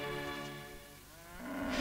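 A cow lets out one long, drawn-out moo in a barn, a low harmonic call that bends in pitch and rises at the end, fairly faint and heard alone.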